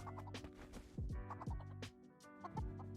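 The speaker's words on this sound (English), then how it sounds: "I can hear you over here, chickens." Chickens clucking in the video game Guild Wars 2, a cluster of quick, close clucks and short descending squawks repeating across a few seconds, fairly faint.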